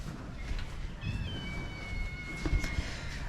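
A pet cat meows a few times in a home, faint high calls rising over steady low background rumble, with no talking.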